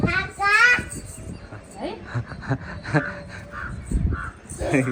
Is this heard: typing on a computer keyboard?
no